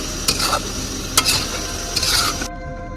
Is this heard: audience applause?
no